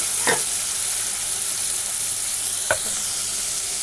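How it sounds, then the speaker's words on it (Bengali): Water poured onto fried spices in a hot pan sets off a steady, loud, continuous sizzle and hiss close by, with two brief scrapes of stirring. "এবার আমি সামান্য পরিমাণ পানি দিয়ে দিচ্ছি"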